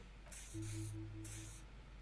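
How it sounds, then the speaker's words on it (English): An odd-smelling spray doused in a double helping in Disco Elysium gives two short hissing bursts with a brief gap, set over low tonal game ambience; no voices. "He douses you with the odd-smelling spray"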